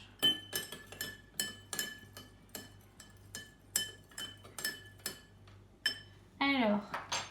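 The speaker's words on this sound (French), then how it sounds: "Alors, des petits cailloux. Je les mets dans le verre. Et je mélange." Small pebbles stirred inside a drinking glass give a run of sharp, bright clinks in an uneven rhythm, close and clear with no voices. A final scraping rattle closes the sequence.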